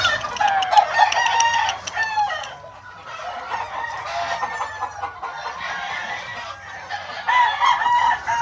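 Chickens at a poultry yard, busy clucking and cackling from several hens with a rooster's cry rising among them, close and fairly loud, continuing without pause across the whole stretch.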